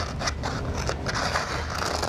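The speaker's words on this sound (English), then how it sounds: "gently move both your scissors and your hands as you cut those curved lines" Scissors snip and scrape steadily through a curved paper pattern, close up, in a series of short rhythmic cuts with a papery rustle and no talking.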